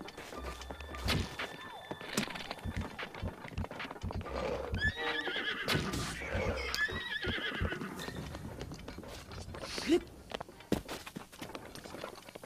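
A horse whinnies with a long, wavering neigh amid hoof clip-clops and thuds, sounding like game audio rather than a real animal.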